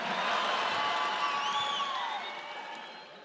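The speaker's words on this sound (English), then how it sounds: "You're clapping on my time now" Crowd of fired-up attendees at a Free Enterprise 2022 event clapping and cheering, a dense, steady wash of applause with whoops and whistles that fades slightly toward the end.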